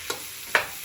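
Onions stirred in butter in a hot pan, two brief sizzling scrapes of the utensil about half a second apart over a low background, close and alone.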